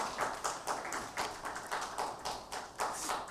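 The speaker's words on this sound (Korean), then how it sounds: "은혜로운 찬양해 주신 성가대원들에게 다시 한번 감사의 박수하겠습니다." A church congregation applauds the choir after a hymn during a Sunday Lent service at a university church. The clapping is soft and steady and keeps going for the whole stretch, with no voices over it.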